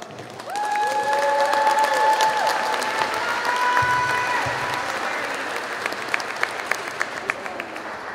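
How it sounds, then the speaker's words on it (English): Spectators at a semi-pro basketball game between the Port Angeles Rams and Northwest Indian College break into steady, sustained applause that fills the gym, with a few brief tonal sounds ringing over the clapping. "Let's give another round of applause for Skylar Wheeler."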